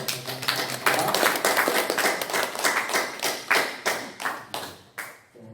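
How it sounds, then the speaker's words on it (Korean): A church congregation at a Sunday praise service claps for the worship team, brisk applause that starts full, then thins into scattered, distinct claps fading away near the end. "우리 격려의 박수를"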